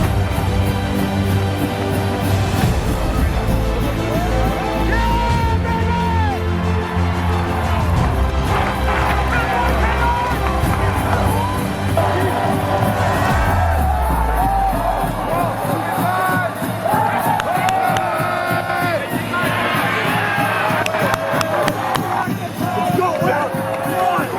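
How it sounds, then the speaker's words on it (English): A big football stadium crowd roars and cheers late in the fourth quarter after a long play, loud and sustained, with a play-by-play voice talking over the noise. "The crowd gets behind the offense."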